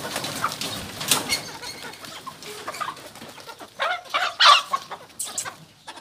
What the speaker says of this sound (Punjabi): ਮੁਰਗੇ ਰੱਖੇ ਨਾ ਆਪਾਂ?